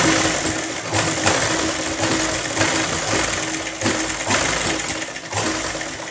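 A sewing machine stitches a lined 32-inch belt blouse, running in a steady continuous whir with short pauses and restarts, close and fairly loud, with no one talking.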